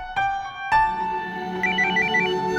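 A phone ringtone plays a bright, repeating electronic melody that starts abruptly and carries on steadily, close and clear, with no talking.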